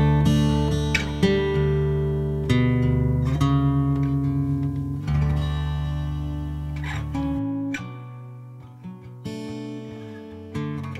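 A tag from a song is played on acoustic guitar, a slow sequence of plucked chords and ringing notes that sustain and decay, close and clear with no voices.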